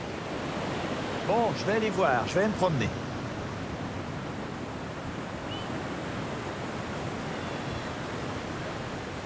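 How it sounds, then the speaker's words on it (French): Surf rolls in at a beach resort in El Salvador, a constant broad wash of breaking waves with some wind. Someone speaks briefly near the start, and the sea continues alone afterward. "Et il y a des belles vagues."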